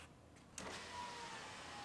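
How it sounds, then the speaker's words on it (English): A Honda Civic Si power window lowering into the door, a faint steady electric motor whir starting after a soft click and running smoothly to the end. "And put our window down."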